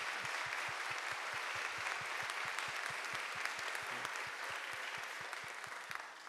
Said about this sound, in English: can we have a round of applause for Annie Childress?